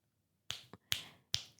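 Three or four crisp finger snaps or clicks ring out one after another, each sharp and close, with a short gap before the first and nothing else heard.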